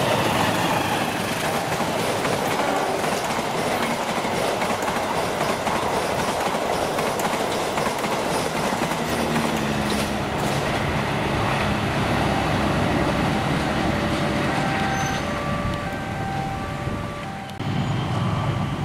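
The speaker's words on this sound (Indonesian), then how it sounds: "ini kereta api Argo Sindoro 11A melintas stasiun Karawang" The Argo Sindoro passenger train rumbles through Karawang station at speed, wheels clattering rhythmically over the rails for a long stretch, loud and close before easing slightly at the end.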